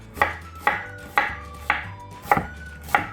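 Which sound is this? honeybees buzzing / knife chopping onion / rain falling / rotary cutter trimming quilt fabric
knife chopping onion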